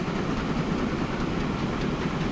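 A train rolls past in the Transport Fever 2 game on a UK mainline bypass loop, a steady close rumble of wheels and wagons that holds even and unbroken with no talk over it.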